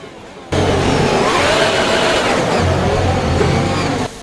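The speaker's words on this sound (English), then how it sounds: "that sounded like he put the throttle down way too much" Game engine roar from an F1 2021 racing car losing control near a chicane after the throttle is pushed down too hard, a loud sustained whine that starts abruptly and holds steady for several seconds before cutting off.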